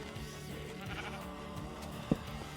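A sheep in the Minecraft video game gives one short, clear bleat over a quiet background hum.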